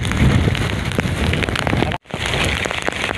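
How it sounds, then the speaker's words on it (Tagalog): Heavy monsoon rain and strong wind at sea battering a boat, a dense roaring wash of rain and gusts, loud and close, with a momentary dropout before it resumes. "Talagang matindi itong habagat na ito oh."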